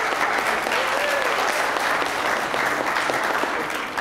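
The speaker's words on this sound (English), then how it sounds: "Please give him a welcome round of applause." An audience at a college speech contest claps in steady, dense applause, loud and sustained throughout, with a faint voice rising briefly beneath it.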